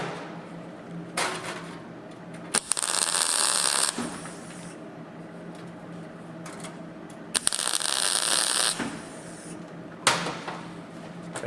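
Short bursts of tack welding on a fabricated car sill in a workshop, two separate crackling, hissing stretches of a second or so each, close and loud, with quieter bench noise between them.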